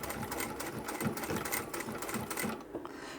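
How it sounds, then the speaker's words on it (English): A sewing machine runs a fast, even stitch through thick layers of a large trapezoid utility bag, a close mechanical whir that slows and stops near the end. "we're going to sew all of the layers together at each end. So we'll backstitch here"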